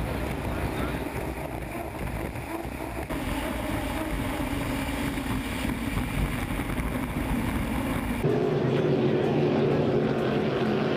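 Racing powerboats roar across the water at St Félicien, a steady loud engine drone with a sharper, higher-pitched motor rising near the end, under a commentator's voice.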